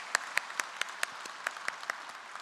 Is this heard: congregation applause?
yes